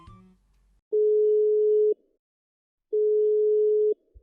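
Two steady telephone line tones of about one second each, separated by a second of silence, sound clearly and alone while a call connects, with a faint click at the start and end.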